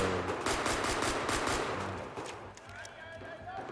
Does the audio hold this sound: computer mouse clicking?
no